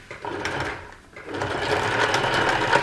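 A sewing machine stitches a sequin tote bag, a close, rapid mechanical whirr that dips briefly to a pause and then runs on steadily.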